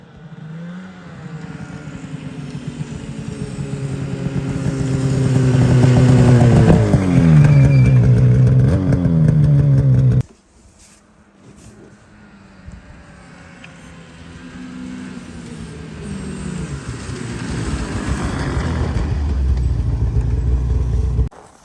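Polaris snowmobiles, including XCR 850, XCR 650 and Cross Country 600 sleds, ride along a snowy trail, their engines droning and revving loudly close by, dropping away suddenly and then building again as another sled passes.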